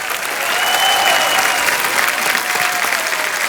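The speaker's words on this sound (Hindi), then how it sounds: "राहुल देव और करण कुंद्रा के लिए जोरदार तालियां" A studio comedy-show audience gives loud, dense applause for the cast, a thick roar of clapping with crowd noise that stays strong and unbroken throughout.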